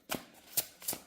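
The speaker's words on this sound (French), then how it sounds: "Allez, on va prendre une carte." Tarot cards being drawn and shuffled from a deck, three quick close riffling flutters spaced about a third of a second apart, crisp and alone.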